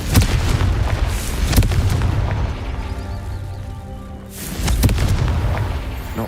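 Confringo spell explosions in the Hogwarts Legacy video game: a few heavy booming blasts with a deep rumbling tail between them, loud and close, with no talking.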